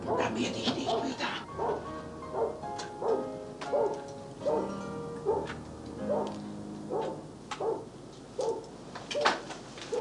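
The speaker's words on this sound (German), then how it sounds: "Der Hund macht mich nervös." A dog in a 1984 German TV film scene barks and whimpers repeatedly, a steady series of yelps and whines at moderate distance with some faint background sounds and little speech.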